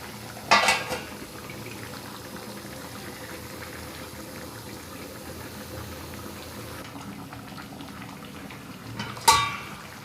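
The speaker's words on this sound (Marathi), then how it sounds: "झाकण ठेवून 5 मिनिटांसाठी आपण याला शिजवून घेऊया." A crab and prawn curry simmers in a covered pot as a steady, low bubbling hiss, with a metallic clank near the start and another near the end.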